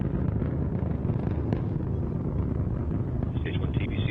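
An Antares rocket's engines roar at full thrust during ascent, a dense, steady broadband rumble with windy texture and a distant, muffled quality, under a voice giving status callouts.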